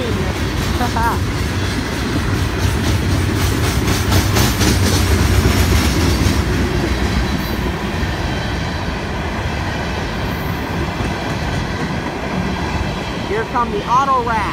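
FEC freight train rolling past at Stuart, a steady loud rumble of wheels and rail clatter with a passing horn-like tone and faint squeal near the end; a voice speaks briefly over the din.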